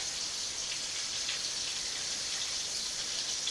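Steady rain from a storm outside, a dense even patter and hiss of falling drops, constant throughout with no voices.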